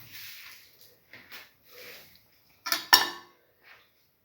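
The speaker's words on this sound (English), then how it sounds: "And mix all the ingredients." A utensil stirs beef liver and parsley in a pan, with soft scrapes and light clinks, then two sharper metallic knocks, fairly close and quiet.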